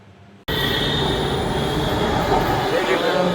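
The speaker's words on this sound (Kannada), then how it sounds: "Finally metro ಬಂದಾಗೈತೆ." A metro train arrives at a station, cutting in suddenly as a loud, sustained rumble of wheels on rails with faint squealing, and voices in the background.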